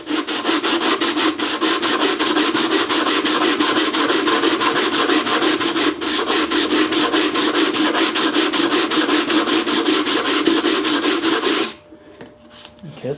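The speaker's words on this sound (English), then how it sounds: "Let's sand it a little" Hand sanding of the second coat on a homemade overhead-valve Briggs engine part gives a loud, close, rhythmic rasp of rapid back-and-forth strokes that continues steadily for about twelve seconds before stopping.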